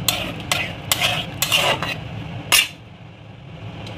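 A spoon stirs a mixture into Schezwan chicken gravy in a pan, making several distinct scraping clinks in an uneven rhythm over a low simmering bubble, close up and without speech.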